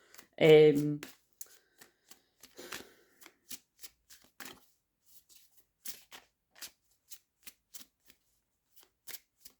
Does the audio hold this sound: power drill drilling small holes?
no